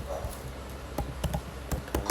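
A ping command typed on a computer keyboard under Kali Linux, a quick series of distinct close key taps in an uneven rhythm, ending with a firmer press.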